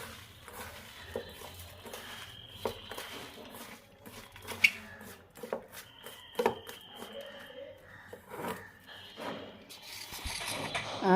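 Chopped vegetables for cauliflower pakora being mashed by hand with salt: soft, irregular wet squishing and rubbing, close and fairly quiet, with a few sharper squelches.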